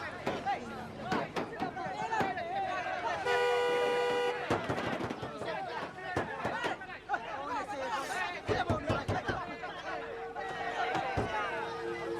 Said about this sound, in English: Honk at them.